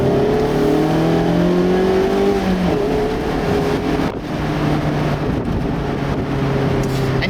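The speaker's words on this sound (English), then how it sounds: "I'm surprised with just how well the exhaust sounds" A 2016 Mazda MX-5 Miata's engine revs up and down with a throaty exhaust note, steady and loud, with wind noise in the background from the open top.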